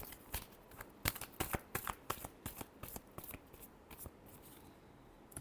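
Tarot cards are shuffled by hand in a quiet room, giving a close, brisk run of crisp riffling slaps and flutters at an uneven rhythm.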